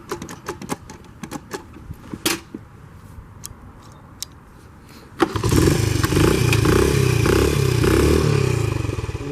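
A 1991 Honda CT70 small motorcycle, choke on, kick-started: several clattering kicks and clicks, then the engine fires about halfway through and runs on with a loud, steady, close putter.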